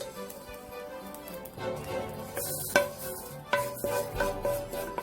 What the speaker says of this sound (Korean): 기름을 두르지 않은 팬에 멸치를 볶아서 비린내를 알려주세요.